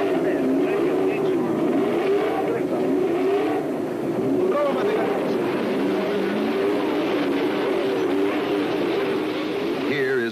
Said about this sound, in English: the high-speed Grand Prix track and the Formula One car